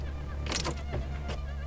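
A key turns in the ignition of an electric Citroën Saxo, giving brief clicks and a short jangle over a steady low hum inside the car.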